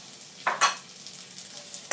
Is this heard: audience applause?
no